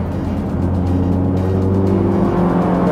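A Toyota Vios GR race car on a track, its engine droning loud and close in third gear, the steady whirring note climbing gradually in pitch as it pulls along.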